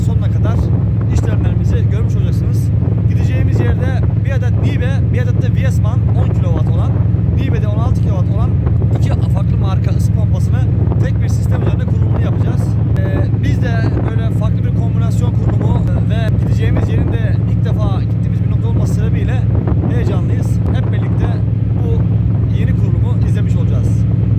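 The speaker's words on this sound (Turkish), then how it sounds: "Şu anda Avşa Adası'na gitmek için Marmara vapurundayız." A Marmara passenger ferry sailing to Avşa Island drones with a loud, constant low engine hum throughout, while a person talks over it.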